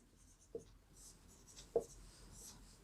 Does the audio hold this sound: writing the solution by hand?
yes